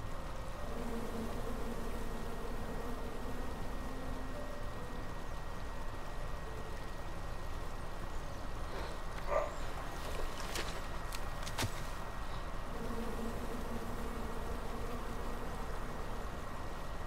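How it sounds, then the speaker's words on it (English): Bees buzz in a King's Quest game scene as a steady, dense hum that fills the whole stretch at moderate level, with a few brief clicks partway through and no talk. "Come at me, bees!"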